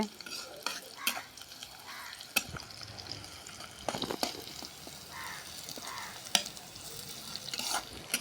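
Steady sizzling of food frying in a pan, with scraping stir strokes and occasional clinks of a utensil against the pan.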